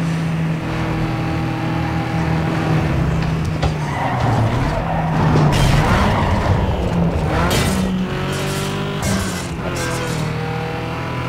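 A car in the racing game Need for Speed Underground 2 revs and drives hard, with engine pitch shifting through the gears and tires squealing and skidding through corners, loud and continuous with no talk.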